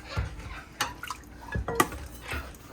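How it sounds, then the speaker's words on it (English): Water is sprayed onto parrot food and water bowls, giving irregular splashes, drips and clinks of the dishes, fairly quiet and close, with no talking. "give it a good spray"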